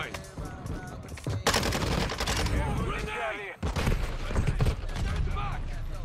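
Rapid bursts from an RPK light machine gun in Modern Warfare 2 rattle out in several stretches. Chattering automatic fire mixes with other gunshots, and voices talk over the shooting.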